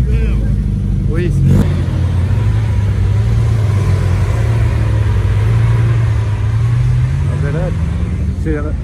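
Lamborghini sports car passing at Place Vauban, its engine a loud, steady low drone that rises and sweeps through the clip, with people talking over it.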